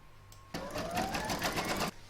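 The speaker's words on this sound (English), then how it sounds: "I'm now going to pop this into my machine and stitch round number 1" A sewing machine runs in one short burst of rapid, close, buzzing stitches, sewing an outline for an owl hair barrette before stopping abruptly.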